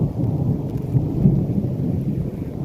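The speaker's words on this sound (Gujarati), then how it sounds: "સાંભળો સાંભળો કડાકા થાય છે." Thunder rolls through a heavy downpour in Bhatiya, a deep, continuous rumble layered over the steady hiss of rain, loud and close with no voices.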